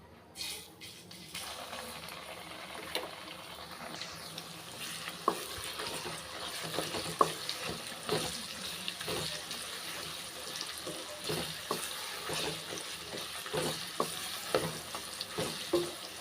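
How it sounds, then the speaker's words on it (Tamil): Ground wood apple paste sizzles and fries in hot oil for a Tamil-style pickle, with steady crackling and the scrape of a spoon stirring the pan at close range. "அந்த விளாம்பழத்தோட பச்சை வாசனை போகிற வரைக்கும் அந்த எண்ணெயிலே நல்லா வதக்கிக்கலாம்"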